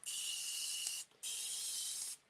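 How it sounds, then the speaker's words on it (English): Two bursts of water mist from a handheld spray bottle, each a steady hiss of about a second, close and clear, used to wet a long board when applying reusable transfers. "I'm just going to take a spray bottle of water."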